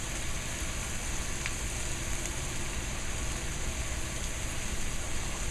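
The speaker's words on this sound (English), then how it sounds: "So you just keep breaking this up and browning it." Ground beef browning in a pan for guisado, a steady, loud, even sizzle of frying meat with no voices.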